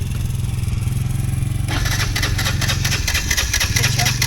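A Can-Am DS90X youth ATV engine idles nearby with a steady low putter, then brightens into a busier, rattling rev partway through, running loud and continuous with no talk.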